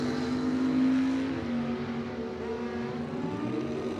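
A second-generation Camaro drag racing down the strip at Cordova Dragway, its engine screaming hard and steady at full throttle and dropping in pitch slightly as it pulls away.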